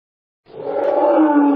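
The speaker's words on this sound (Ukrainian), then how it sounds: "рик лева," A lion's deep roar starts abruptly after a moment of silence and swells, loud and close, holding strong to the end.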